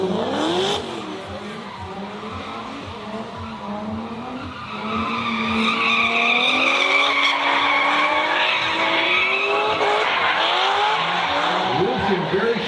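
Drift cars slide around the track at a drifting event, tires squealing in long, wavering screeches over roaring engines, loud and continuous as a commentator talks over it.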